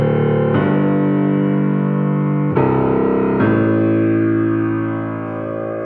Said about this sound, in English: So now I'm going to play the left hand only and showing how the substitution works.